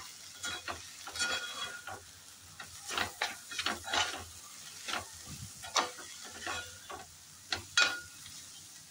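Spoon scraping and stirring egg bhurji with cumin powder and black pepper in a pan, a series of irregular close scrapes and taps over a soft, steady sizzle.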